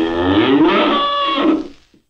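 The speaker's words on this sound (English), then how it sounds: "We mustn't forget our cow." A cow lets out one loud, close moo, a rising-and-falling harmonic call of about two seconds that ends abruptly, with no voices.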